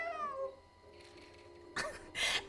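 Cat meows from the video game Stray, a short series of synthesized tonal calls near the start, then two louder bursts of broadband game sound toward the end.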